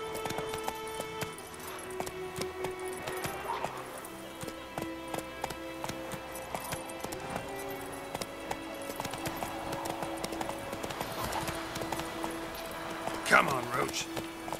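A horse gallops in The Witcher III as steady clip-clop hoofbeats run under game music, with a whinny near the end and someone talking over the ride.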